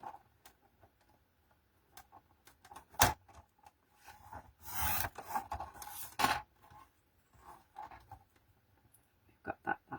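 Paper being trimmed for handmade cards using inky backgrounds, heard as scattered close scraping, rubbing and ticking cuts that come in short bursts and one longer rasping stretch, with quiet gaps between them.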